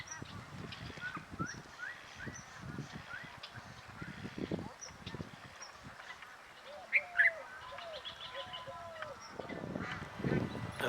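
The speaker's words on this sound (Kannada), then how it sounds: "ಅಲ್ಲಿ ನೋಡಿ ಎಷ್ಟೊಂದು ಪಕ್ಷಿಗಳು ಕೂತ್ಕೊಂಡಿದ್ದಾವೆ." Many birds call at the Magadi bird sanctuary in Gadag, Karnataka: repeated chirps and short tweets at a distance, with goose-like honks in between, under intermittent nearby talk.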